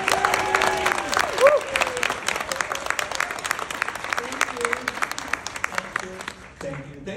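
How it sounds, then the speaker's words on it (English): Audience applause for a guest, an Oscar-winning hairstylist, at a film event, with scattered claps under an announcer's voice that continues over the clapping before it fades near the end. "Please give a warm round of applause to our dear guest and friend"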